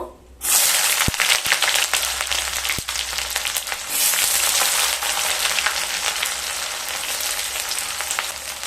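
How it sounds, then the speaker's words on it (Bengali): Three medium sliced onions fry lightly in hot oil with curry leaves, a dense, steady sizzle close up after a brief quiet start, with a few sharp utensil taps. "পেঁয়াজটাকে হালকা ভেজে নেব"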